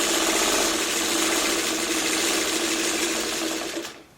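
A sewing machine running steadily while stitching quilt pieces, a fast mechanical whir with a buzzing rhythm held close and loud, then stopping abruptly at the very end.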